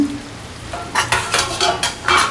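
Raw onions stirred into cooking mutton in a pot, with a continuous sizzle and repeated scraping strokes of a spoon against the metal, about six rhythmic stirs close up.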